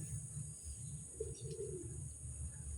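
A female pigeon cooing indoors at a home in the evening, a soft low coo rising briefly around the middle of the clip over a steady low background hum and hiss, with no talking.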